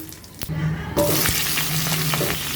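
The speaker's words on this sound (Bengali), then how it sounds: "কড়াইতে তেল দিয়ে দিছি আর জিরা ফোড়ন দিয়ে দিলাম" Hot oil crackles and sizzles steadily in a wok as cumin seeds hit the pan, growing louder partway through, with a faint clink of utensils.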